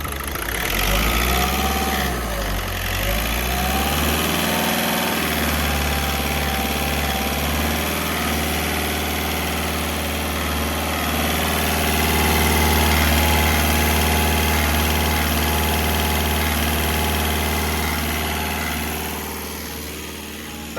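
A VAG 1.6 TDI diesel engine idles steadily and close by, a continuous low rumbling drone with slight vibration, running alone without talk throughout.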